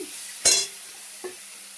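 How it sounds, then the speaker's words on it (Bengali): Dried red chillies and soaked prawns hitting hot oil in a pan, a sudden close sizzle burst followed by a smaller second hiss over a low steady frying background. "গরম হয়ে গেছে, শুকনো লঙ্কা দিয়ে দিলাম, চিংড়িটা দিয়ে দিচ্ছি"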